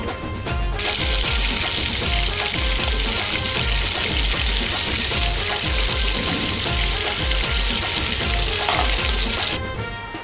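Tomatoes frying with onions in a pan, a loud continuous sizzle with bubbling crackle and a few stirring knocks, close and steady until it ends abruptly.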